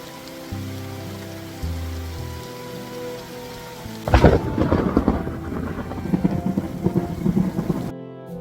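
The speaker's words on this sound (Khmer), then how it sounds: "សំឡេងផ្គរលាន់និងរន្ទះព្រមទាំងភាពរំដំនៃទឹកភ្លៀង" A thunderstorm at a waterfall campsite in Kampong Chhnang, Cambodia: after a calm stretch with a steady tone, a sharp thunder crack breaks out, followed by steady heavy rain with rumbling.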